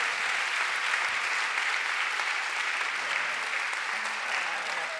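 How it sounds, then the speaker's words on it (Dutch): Steady audience applause for guest speakers at the close of an evening talk on intimacy and wellbeing, an even, continuous wash of clapping at moderate level throughout. "Mag ik een groot applaus voor de gasten Marjolein Anteunis, Esther Kruwer en Anouk K"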